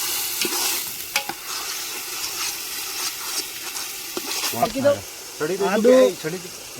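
A utensil stirs ginger, chili and garlic paste into food frying in a pan, with scraping and a continuous sizzle, and a person starts talking over it toward the end.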